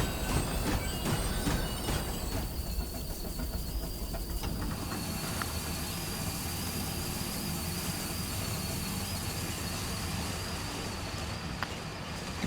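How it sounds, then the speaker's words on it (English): A train slows in a video game set in an arctic mystery box scenario, with steady rumbling and clatter giving way to a long metallic brake squeal and hiss as it comes to a stop. "Hold on, I'm gonna stop the train."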